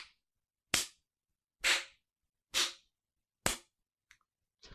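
Anime sound effect of an awkward golf clap: four sharp, evenly spaced hand claps separated by silence, then a faint fifth clap and a small trailing tap.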